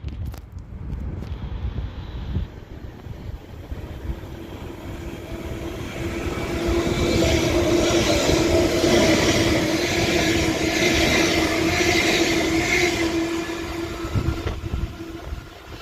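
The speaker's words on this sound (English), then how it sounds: "Is a doubled up West Midlands Railway Class 730" A doubled-up West Midlands Railway Class 730 electric train passes through Duddeston station, a rising rumble and steady whirring roar that swells to a peak then eases away, with some wind noise and no talk.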